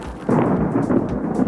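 Deep thunder from a storm over a house for sale in Prescott, Arizona, rolling and rumbling continuously at close range, fairly loud and steady with no talk.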